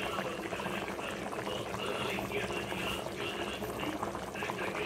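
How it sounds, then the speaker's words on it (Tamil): Rice boiling in a pot for Chettinad-style mushroom biryani, a steady dense bubbling and simmering at moderate level with no pauses, heard close up throughout. "நம்மளோட நல்லா அரிசி போட்டதுக்கப்புறம் நல்லா கொதிச்சிடுச்சு."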